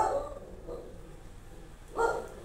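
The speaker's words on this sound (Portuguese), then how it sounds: "Agora o cachorro começou a latir. O cachorro não, a cachorra." A female dog barks twice, a short bark at the start and another near the end, moderately close in a room with low background hum and no talk.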